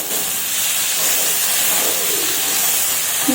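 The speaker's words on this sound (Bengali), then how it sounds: "নাড়িয়ে নাড়িয়ে ভেজে নিতে হবে।" Tomato and onion frying in a pan, a steady loud sizzling hiss that holds evenly throughout without pauses or speech.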